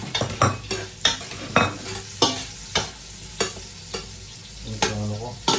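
Onions stir-frying in a pan for pork adobo, a crackling sizzle broken by regular loud spatula scrapes and knocks about every half second, close and without talk.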